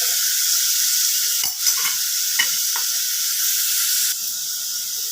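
Ingredients for a chicken stew fry in a pan with turmeric, giving a steady, loud sizzle throughout, broken by a few short scrapes and knocks of stirring.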